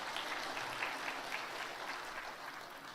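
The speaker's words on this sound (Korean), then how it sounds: "우리 박수로 한번 격려하겠습니다." A church congregation at a Korean Sunday service claps in encouragement for a grieving deaconess, a soft, even wash of applause heard from a distance without pause.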